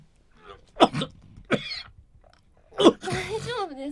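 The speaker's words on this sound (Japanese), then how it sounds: "落ち着くたびに咳払いをした。" Several short throat clears and coughs, close and voiced, in separate bursts with brief pauses between them.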